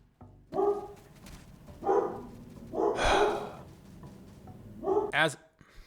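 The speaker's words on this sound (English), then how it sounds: "Wrong ass time for my dog to start barking." A dog barks in several separate bursts, fairly loud and close, with a whimpering yip at the end and quiet gaps between.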